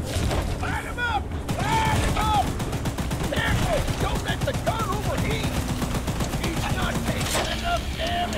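Rapid mechanical gunfire aimed at Charles, the monstrous spider train in Choo-Choo Charles, a steady rattling stream of shots running for several seconds with clanking machinery, creaks and a shouting voice over it.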